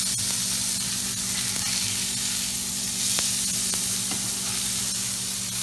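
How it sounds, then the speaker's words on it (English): A salmon fillet sizzles in a hot, dry pan with no oil, giving a steady, loud frying hiss that runs unbroken throughout, with a few faint clicks on top. "the salmon's been cooking for about 15, 20 seconds"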